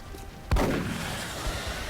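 A shotgun fires once in the XCOM: Long War strategy game, a single sharp boom with a short decaying tail over low background noise.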